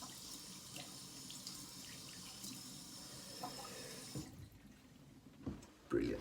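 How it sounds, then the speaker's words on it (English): Cold tap water runs steadily into a sink for a rinse during a daily head shave, a continuous wash of splashing flow that drops off near the end, with a few louder splashes and thumps close by. "now I'm going to do cold water rinse"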